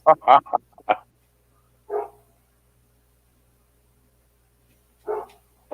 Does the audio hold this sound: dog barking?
yes